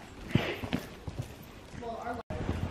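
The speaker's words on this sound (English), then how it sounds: "Forgot how gorgeous that horse is." A horse's hooves clip-clop at a riding lesson, a few faint, uneven thuds under nearby people talking.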